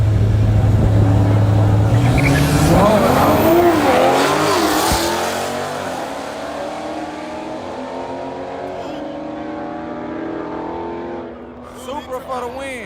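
A Toyota Supra and a Dodge Scat Pack launch in a Dallas drag race, engines rising from a loud idle into a revving pull that fades into the distance, with voices and crowd noise throughout.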